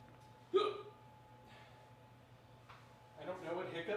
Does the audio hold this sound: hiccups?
yes